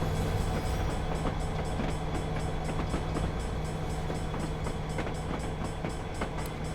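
A GP60 diesel locomotive pulling a Norfolk Southern train in Train Simulator 2019, a steady engine drone with rhythmic wheel clicks on rail joints, continuous and moderately loud.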